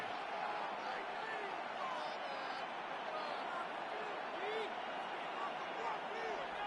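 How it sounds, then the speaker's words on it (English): A large Buffalo stadium crowd in Madden 26 roars in a steady, dense wash of noise before a third down, with scattered voices rising out of it. "The Buffalo crowd being heard before third down."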